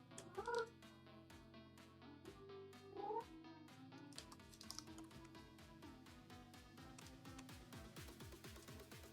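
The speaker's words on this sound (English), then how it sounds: "Kitty's upset and wants to get out." A house cat meows a couple of times, upset and wanting to be let out, its cries rising briefly over steady background music.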